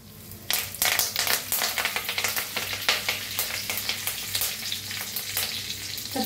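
Curry leaves hit hot oil already crackling with mustard seeds and cumin, setting off a sudden loud spattering sizzle that stays busy and crackly for several seconds, close and with no voices.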